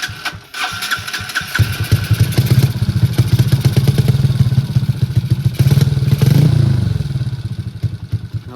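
A motorcycle's starter cranks briefly before the engine catches and runs with a steady, close mechanical clatter, rising into a louder rev about two-thirds through and then settling back toward idle.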